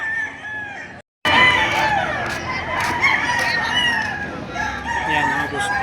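Roosters crow over and over at a busy chicken market in Padre Garcia, Batangas, with many overlapping calls near and far above a crowd murmur, after a brief dropout near the start.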